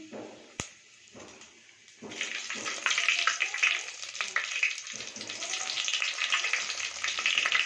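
Cumin, fenugreek and dried red chillies frying in hot oil for a pumpkin curry, a steady crackling sizzle that starts quiet and swells after a couple of seconds, continuing busily with no voice over it.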